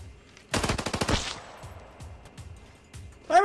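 Rapid burst of G18C pistol gunfire in Arena Breakout, a tight string of about eight loud shots lasting under a second, then sparse quieter thumps and a sharp clatter at the end.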